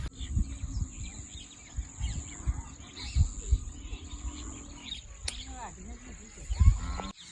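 A bird calls in a mustard field on a farm, with short rising chirps in the last few seconds over a steady buzzing field ambience, while people talk quietly nearby.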